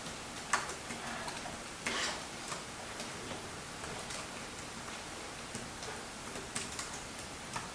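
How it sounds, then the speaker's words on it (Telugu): Typing on a computer keyboard while entering an email address: light, irregular clicks and taps spaced unevenly, with a few sharper keystrokes. Close and fairly quiet, with no talking. "నేను దీని గురించి నా మెయిల్ ఐడి అయితే టైప్ చేస్తున్నాను."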